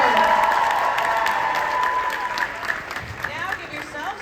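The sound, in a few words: audience applause and cheering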